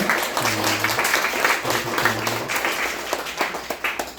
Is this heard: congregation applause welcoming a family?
yes